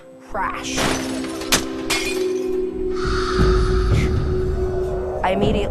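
A plate drops and shatters loudly indoors, a sharp crash followed by scattering and clattering fragments with some ringing, overlaid by voices.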